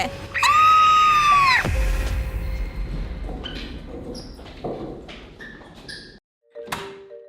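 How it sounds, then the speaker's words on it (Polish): Several people scream loudly on a school campus, a shrill wavering cry lasting over a second, followed by scattered thuds, shuffles and short squeaky noises. "Co to za krzyki?"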